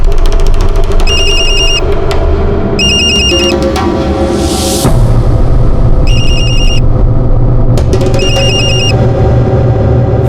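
A phone ringtone chimes in repeated bursts, four short ringing patterns spaced a couple of seconds apart over dramatic background music.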